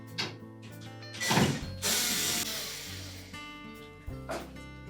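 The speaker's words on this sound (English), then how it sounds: "we're next going to remove these two screws that secure that main top to the cabinet" A power drill or screwdriver backs out screws holding a Whirlpool dryer's main top to the cabinet, with short whirring bursts of varying length and mechanical clicks close up, no talk.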